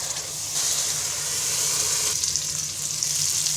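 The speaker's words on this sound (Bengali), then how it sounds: "মশলাটাকে কিছুক্ষণ ভেজে নিব" Spice paste for a snakehead fish curry with peas frying in a pan: a close, continuous sizzling hiss that swells and eases slightly, with faint stirring beneath and no talking.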